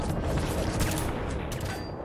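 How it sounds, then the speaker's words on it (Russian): Rapid bursts of gunfire in the Fallout 4 video game on survival difficulty, dense overlapping shots forming a loud, continuous fusillade for about two seconds with no talking. "Целая куча выстрелов."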